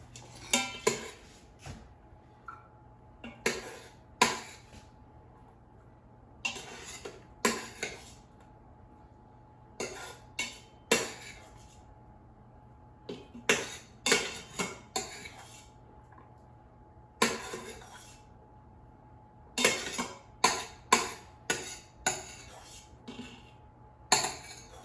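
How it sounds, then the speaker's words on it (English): Utensils scraping and clanking against the metal inner pot of an Instant Pot while cooked farro is lifted out: repeated clustered clinks and scrapes at close range, irregular rhythm, over a faint steady hum, no talk. "Let me take it out of the Instant Pot now"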